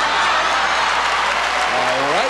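Theater audience applauding at a beauty pageant final, a dense, steady wash of clapping throughout, with a rising tonal sweep near the end.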